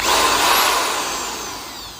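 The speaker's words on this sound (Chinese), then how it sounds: "维修到一台手电钻啊，咱们插入电源，看一下它什么问题啊？" A faulty electric hand drill with an intermittent switch runs in one steady high whine that slowly fades, close and loud, with no talk.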